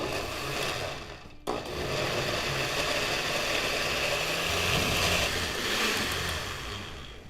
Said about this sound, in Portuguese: eu vou ligar o liquidificador e bater muito bem esses 3 ingredientes